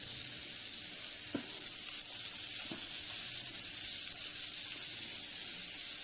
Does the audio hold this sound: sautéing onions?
yes